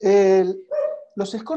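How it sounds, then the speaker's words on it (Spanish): Pet dogs bark loudly and close by in a home, a few sharp barks and a yelp in quick succession over a brief fragment of talk. "Me pido perdón por mis perros, pero son unos demonios incontrolables."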